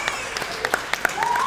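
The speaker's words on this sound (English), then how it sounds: "we first have to clap it up for Brynlee and Christina one more time" Crowd applause at a West Genesee Wildcats high school softball gathering, a short burst of scattered clapping with a few distinct sharp claps standing out, mixed with voices in the background.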